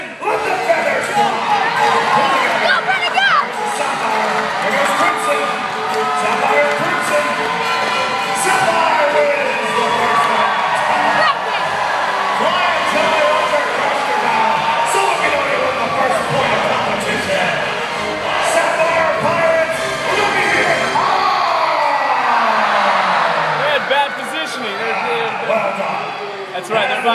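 A crowd cheers and children shout and whoop for a long stretch at a pirate-themed show in Myrtle Beach, urging on a young participant in a chase. The noise stays loud and dense, with a host's voice mixed in.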